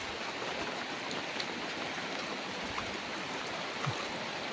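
Heavy rain pouring down outdoors near goat pens, a dense, steady hiss of drops on surfaces with scattered louder splashes, unbroken throughout with no voices.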